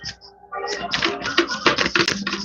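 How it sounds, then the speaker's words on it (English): Tarot cards are shuffled by hand in a rapid series of close, crisp riffling taps and flicks, loud and irregular, following a brief quieter moment. "I'll shuffle these cards."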